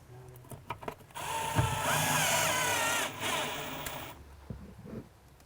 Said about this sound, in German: Durch die schrägen Löcher wird der Schrank im Boden festgeschraubt.